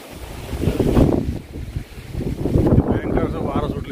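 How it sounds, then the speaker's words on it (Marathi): Strong gusting wind on the hillside path up Shivneri hill fort in cloudy, rainy weather, roaring and buffeting loudly against the microphone in rising and falling surges. "भयंकर वारा सुटली सध्या"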